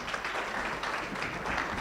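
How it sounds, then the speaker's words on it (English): Applause from the audience at the national launch of the Thamani ya Binti faith community initiative: a steady, dense wash of many hands clapping, moderately loud, with no talking over it. "Makofi mengi sana."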